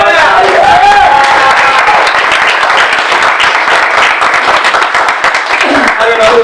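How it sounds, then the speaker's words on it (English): A graduation dinner audience breaks into sustained applause, dense clapping filling the room from start to finish, with voices and cheers mixed in under it. "Let's give it a round of applause."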